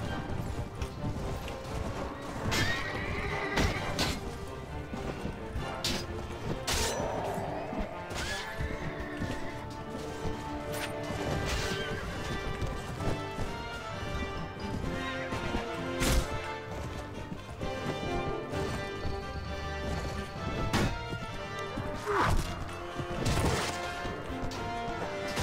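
Horse hooves and neighing in the video game Floris, buried in a dense, continuous mix of clashing battle impacts, thuds and game music with no clear pauses.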